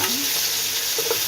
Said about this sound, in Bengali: মাছ দুটাকে একটু ভালো করে ভেজে নে